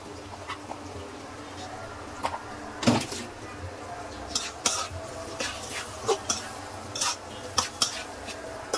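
Ground turmeric, chili, coriander and cumin stirred while frying in a pan for a shrimp and taro stolon curry, giving soft intermittent scraping and clinking taps over a low sizzle.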